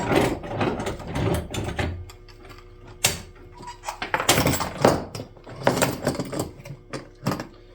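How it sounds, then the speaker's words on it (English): Close by, a hand winch on a homemade bow draw board ratchets in quick clicking bursts, pausing and resuming with sharp pawl clicks and a few heavier clunks along the way. "On winch."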